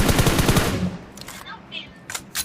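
Automatic gunfire in the mobile battle royale game PUBG Mobile, a rapid loud burst of shots at the start followed by quieter scattered shots and game sounds.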